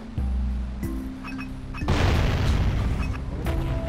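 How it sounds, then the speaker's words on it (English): Cannon blasts from the video game Jak & Daxter: The Precursor Legacy, in a swamp level: a deep boom at the start, then a second heavier explosion with a long rumbling, crackling tail, over game music tones. "cannon and blow things up to smithereens"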